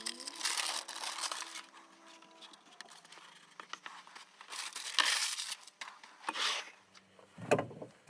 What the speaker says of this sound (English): Use some baking paper as rubbing down paper to